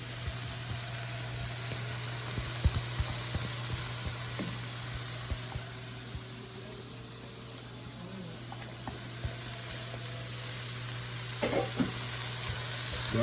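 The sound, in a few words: saltfish being stirred and frying in a pan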